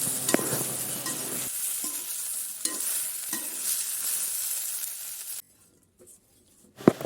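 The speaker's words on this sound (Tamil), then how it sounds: "நல்லா வதக்கி எடுத்துக்கொள்ளுங்க" Cluster beans sautéed and stirred in a pan give a steady loud sizzle with scraping stir strokes for about five seconds, then the frying sound cuts out to near silence before a brief clatter at the end.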